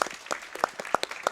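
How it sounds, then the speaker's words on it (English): An audience claps during a Half-Life speedrun at a live marathon event, with a short burst of sparse, uneven individual claps rather than full applause. "let's get some claps here."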